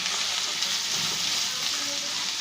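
Chopped onions frying in oil in a pan after garlic has browned, a steady, even sizzle and fine crackle throughout with no talking.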